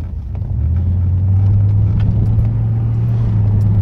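Road traffic heard from inside a car waiting at a city light on a weekday, a steady low engine and road rumble holding close and even throughout, with no talk.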